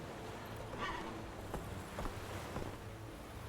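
Hollow hoof clatter of a horse climbing stairs in The Witcher 3, a few irregular thuds and knocks over a steady low background hum.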